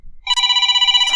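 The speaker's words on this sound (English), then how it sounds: "That's my phone alarm." A phone alarm rings loud and close, a bright electronic tone warbling rapidly and steadily for about a second after a quiet start.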